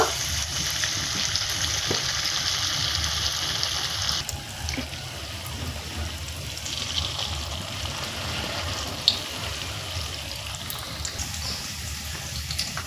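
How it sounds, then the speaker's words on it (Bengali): Battered pointed gourd chops frying in hot oil in a kadai, giving a steady, dense sizzle with bubbling that runs the whole time, moderately close and with no voices. "তেলে আমি একটা করে পটল দিয়ে দেব দিয়ে চপগুলো ভেজে নিব"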